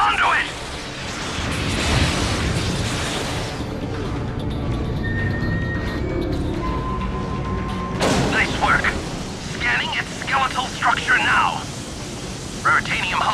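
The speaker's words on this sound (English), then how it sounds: "Cannons armed! Firing!" Cannons fire in the PS3 game Ratchet & Clank Future: A Crack in Time, heavy booms and crackling blasts over a dense noisy mix, with a burst of sharp impacts at the start and more after a sudden hit midway.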